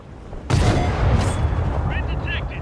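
A single loud cannon blast from an AMX Modele 58 tank firing a HEAT round in a tank game, a sharp boom that rolls into a sustained rumble, with faint higher tones trailing near the end.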